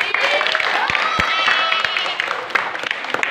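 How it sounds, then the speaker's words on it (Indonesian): Schoolchildren at an elementary school visit to a mini digital library clap together for a classmate: a dense, busy patter of many small hands with sharper claps poking through, children's voices chattering underneath. "Boleh tepuk tangan buat Angga"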